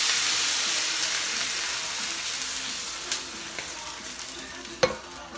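Water poured into a hot pan of toasting fideo noodles sets off a loud, broad steamy sizzle that slowly fades, with a few soft clinks and one sharper knock near the end.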